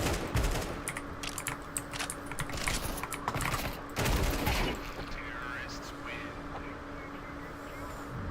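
Rapid AK rifle bursts from a Counter-Strike 2 match, dense crackling fire in short rattling strings mixed with keyboard clatter, loud and close during the first half before easing into quieter game ambience, with a voice talking at times.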